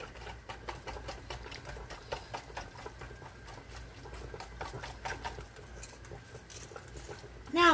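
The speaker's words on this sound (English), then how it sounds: "And we're gonna whisk." Whisk clatters steadily in a bowl of baked bean ingredients for a Dr. Pepper recipe, a fast rhythmic ticking that runs throughout at moderate level, close by.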